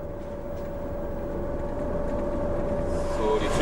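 Steady rumble of a V300 diesel locomotive hauling a heavy loaded freight train on the Wismut railway, droning engine with a sustained tone, growing slightly louder toward the end.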